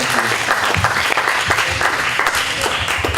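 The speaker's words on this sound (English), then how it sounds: "Round of applause for Hoike." Dense, steady applause from a poetry slam audience on Kauaʻi, honoring a volunteer named Hoike; many hands clapping at once, close and loud, with no break.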